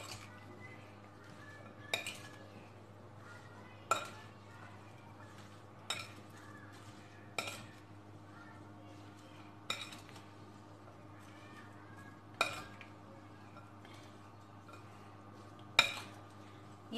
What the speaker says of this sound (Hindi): और इसे हम अच्छी तरह आपस में मिक्स कर लेंगे।